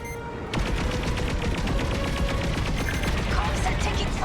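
Starfighter under heavy fire in the space combat game Star Wars Squadrons: dense, continuous rattling bursts of laser gunfire and impacts erupt after a brief quiet start and stay loud and busy throughout.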